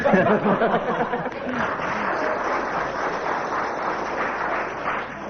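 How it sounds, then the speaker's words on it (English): A ripple of applause from a radio comedy panel show's studio audience, steady broadband clapping with a few chuckles, loudest at the start and then sustained at a moderate level throughout. "And a ripple of applause there"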